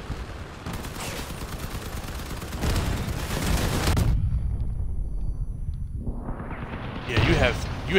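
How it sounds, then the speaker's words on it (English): Plasma cannons firing in the vehicle combat game Crossout, loud sustained bursts of rapid energy blasts, then a sudden cutoff followed by a rising whine and another burst at the end. "Yeah, you have plasma cannons."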